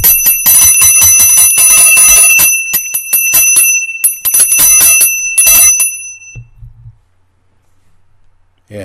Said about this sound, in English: I'll ring the bell once more to keep Don awake.